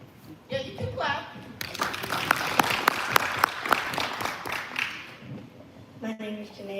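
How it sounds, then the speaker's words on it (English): Audience applause at a live event breaks out after brief talk, a few seconds of moderate clapping with sharp individual claps, fading as a young voice resumes. "Yeah, you can clap."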